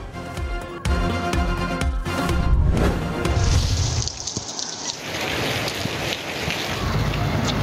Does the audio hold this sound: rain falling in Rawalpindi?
yes